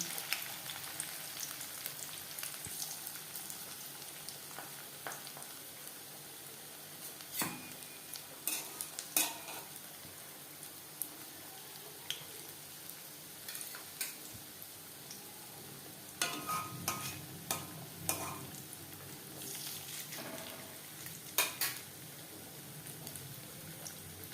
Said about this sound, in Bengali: এবার দিয়ে দেবো পাকোড়া আমি শ্যালো ফ্রাই করছি করতে পারেন